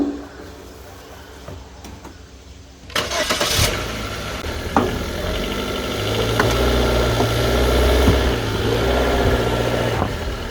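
Car engine started ahead of an oil change and left running to warm the oil: a few seconds of quiet, then a sharp crank and catch that settles into a steady, rumbling idle, close and loud.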